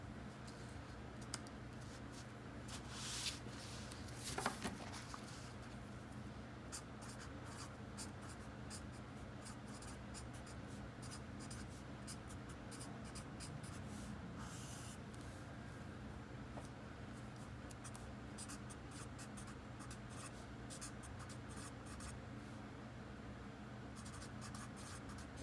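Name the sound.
Writing by hand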